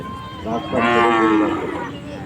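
A single long, resonant moo from a bull at a cattle market in Chandaikona rises and fades over a steady background hum, close and fairly loud.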